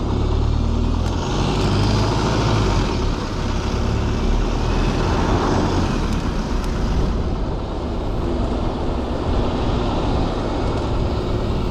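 A bus passes by on the road with a heavy, continuous low rumble and road roar that swells slightly mid-pass, loud and close, with no talking.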